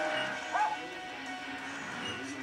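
Cole, a performing dog from The Muppet Movie, gives a single short bark near the start, followed by quiet background with people talking.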